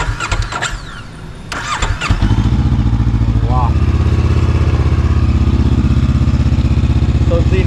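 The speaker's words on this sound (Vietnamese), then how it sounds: "nổ máy lên cho anh em." A 2024 Honda CB500X adventure motorcycle fitted with aftermarket accessories is started: a few clicks and mechanical knocks, then the engine catches and settles into a loud, close, even idle that continues steadily.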